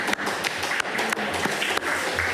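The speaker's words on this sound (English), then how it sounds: "Ladies and gentlemen, give him a warm applause." Audience applause for a speaker at a COP28 climate hub session, a steady mass of clapping from a seated crowd, moderately loud and sustained for a couple of seconds with no talk over it.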